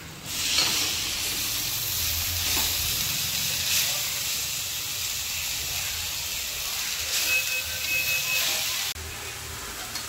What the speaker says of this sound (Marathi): मी भाजी सगळी टाकलेली आहे कांद्यामध्ये आणि छान अशी मिक्स करून घेते